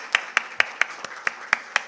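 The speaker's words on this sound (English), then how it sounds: "may we please put hands together for our ambassador, Your Excellency, and give a huge roar of applause" Several crisp handclaps at a business forum, evenly spaced in a steady rhythm of about four per second, close and moderately loud with quiet gaps between them rather than a full crowd roar.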